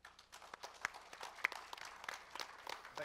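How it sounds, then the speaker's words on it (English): Scattered, fairly faint clapping from a conference audience at a digital assets panel discussion, uneven individual claps rather than a dense ovation. "please give Mr. Höptner a big round of applause"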